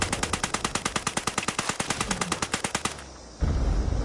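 Rapid automatic gunfire from a full magazine emptied in Fallout 76, around two dozen evenly spaced loud shots in a fast rhythm, then a short lull and a heavy burst of noise.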